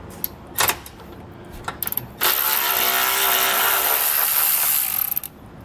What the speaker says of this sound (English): there's going to be 4 12mm bolts. So you're going to want to go ahead and loosen those up and remove them